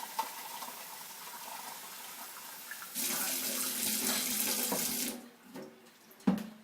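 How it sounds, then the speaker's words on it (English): Water runs steadily from a tap, then swells into a louder, fuller pour before stopping, followed by a few clinks and handling sounds. "Adding a little more water."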